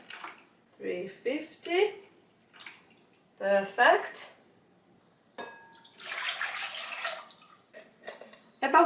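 Lukewarm borehole water from a kitchen tap runs into a glass bowl for yeast dough, a steady hissing pour of a few seconds that follows close, clear talk.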